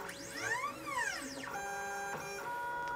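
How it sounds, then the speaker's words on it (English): A 3D printer runs its automatic calibration routine, its motors whining in rising and falling pitched sweeps followed by steady humming tones, close and continuous with no voices. "Right now the printer is actually just doing its auto calibration."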